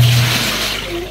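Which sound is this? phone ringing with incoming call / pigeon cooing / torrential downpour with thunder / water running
water running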